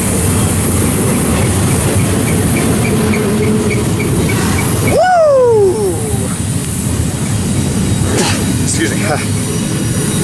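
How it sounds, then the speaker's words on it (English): A freight train rolls past at Tehachapi, grinding on the mountain grade with a loud, steady rumble and a rising squeal near the midpoint, while a voice calls out briefly. "This is a fun spot to watch trains grinding upgrade or downgrade"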